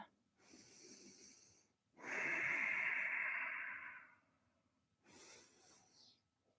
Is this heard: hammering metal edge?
no